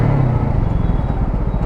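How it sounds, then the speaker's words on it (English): A TVS Apache RTR 200 4V Race Edition 2.0 street motorcycle gives off a loud, close, deep rumbling exhaust note that holds steady and unbroken for under two seconds. "And that exhaust note, man."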